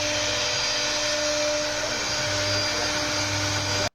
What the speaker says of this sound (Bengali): এখানে কম্পিউটারাইজড পদ্ধতিতে অটোমেটিক মেশিনে ডিজাইন করা হয়।